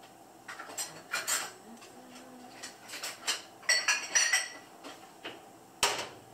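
A spoon clinking against a mug while hot chocolate is made, with scattered light metallic taps and clinks in uneven bursts, close and moderately quiet.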